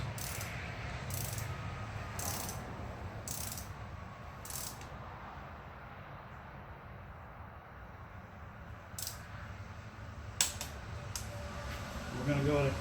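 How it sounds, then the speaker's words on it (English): A torque wrench tightening valve cover bolts on a Dodge Grand Caravan to 105 inch-pounds, giving a series of sharp, evenly spaced metallic clicks early on and a few more later, over a quiet garage background. "Now we're going to torque down our bolts with our torque wrench to 105 inch-pounds."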